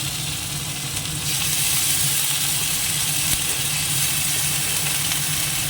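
Dried chillies, cumin, tomato and ginger paste sizzle steadily in hot oil, a close, continuous crackling hiss that swells slightly after the first second and holds with no voices.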